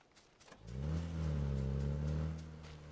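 A vehicle engine in a night-time duos shooter match starts up and holds a steady, loud, low droning rumble for about two seconds, then eases off slightly, heard alone without talk.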